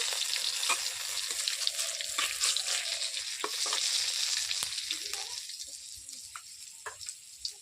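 Three green chillies and bay leaves frying in hot oil for a potato, papaya and chickpea vegetarian dish: steady close sizzling with intermittent stirring scrapes and clicks of a spoon in the pan.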